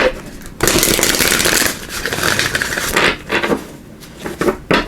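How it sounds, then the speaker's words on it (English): A deck of oracle cards is shuffled by hand in loud, close riffling bursts with short pauses between them, and no voice is heard. "we'll give these a good shuffle"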